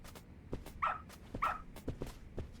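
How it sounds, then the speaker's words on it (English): A dog in the video game Lost Judgment gives two short, moderately loud barks about half a second apart, followed by softer yips and whimpering sounds, all fairly close and quiet in the background. "Good dog. Very good dog."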